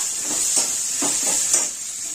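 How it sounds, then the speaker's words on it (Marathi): Chopped onion sizzles and fries in hot oil for a vada pav filling, a steady close hiss with a few soft stirring swells, no voices. "कांदा पण आपण ह्याच्यात थोडा तळून"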